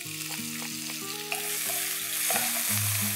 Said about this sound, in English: Allow this to heat. Let's begin with green chilies that are crushed.